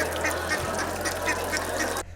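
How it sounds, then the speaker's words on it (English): Ducks at a hotel quack in a steady, busy chorus over a low background hum, with faint voices mixed in. "ducks that are not on the menu but in the spotlight at One American Hotel"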